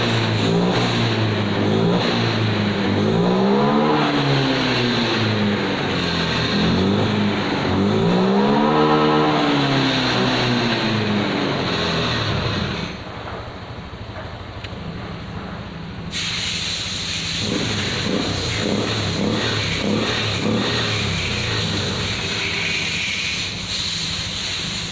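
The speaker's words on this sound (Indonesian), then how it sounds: "Ketika kita tarik gas, RPM nya langsung naik teman-teman." Honda automatic scooter from the 2021 Scoopy, Beat or Genio line, running after a reset that cured a sputtering fault, revs up twice in rising and falling sweeps, loud and close, then settles to a steadier hiss-laden idle with no talking.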